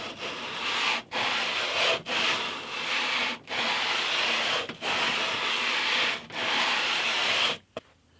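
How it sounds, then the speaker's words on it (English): A wooden sanding block with a 128-foot radius curve is rubbed over wood in long, steady strokes. The scraping is close and loud, broken by short pauses about every second. "So when we sand that, we'll get rid of the high spot"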